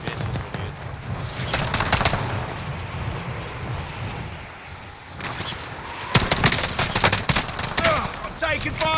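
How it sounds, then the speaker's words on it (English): Enemy gunfire in an online shooter game, with bursts of rapid cracking shots coming in clusters, loud and close, between stretches of quieter background rumble. "I'm taking fire!"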